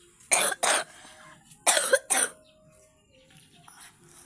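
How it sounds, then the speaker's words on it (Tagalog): Two pairs of sharp, close coughs from one person, with quiet room noise between them. "Inuubo ako"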